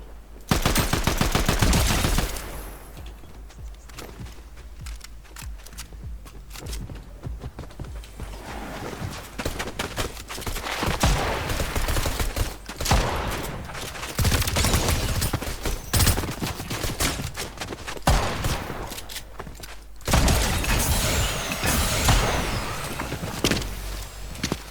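Gunfire in the Fortnite video game: bursts of rapid shots and single cracks come in clusters, with loud volleys at the start and in the second half, split by quieter gaps and other game sounds.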